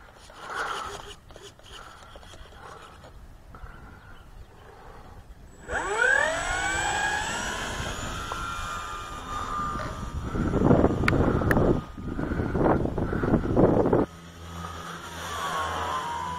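An RC Mustang model plane with an upgraded 4S motor flies overhead. Its motor whine swells in and sweeps downward in pitch as it passes, stays loud and buzzing for a while, then drops away abruptly.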